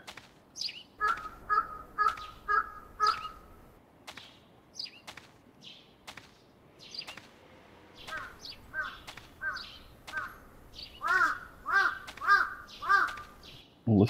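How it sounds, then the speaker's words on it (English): Crow caws in the horror game Tsugunohi, repeated harsh calls in rhythmic bursts of three to five, fairly loud and close, with a brief pause between runs and no talking over them. "Listen to that bird."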